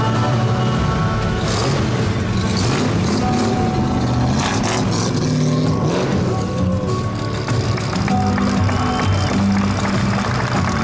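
A Ford Mustang Bullitt V8 rumbles loudly and continuously while driving, its revs rising and falling through changing throttle over about ten seconds.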